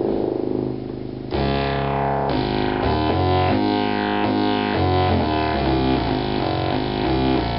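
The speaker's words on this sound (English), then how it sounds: "you have the option to actually make the filters oscillate" A restored Micromoog synthesizer with its filters pushed into self-oscillation rings out in bright, buzzing, distorted tones, a steady sustained drone shifting through stepped pitch changes, loud and alone without any talk.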